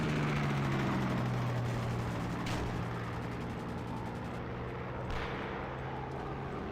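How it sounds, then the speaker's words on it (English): Engine drone of several planes flying overhead in a World War II style online flight combat game, a steady loud hum with low tones that fills the whole stretch, with faint crackles of gunfire here and there. "We got a lot of planes around here."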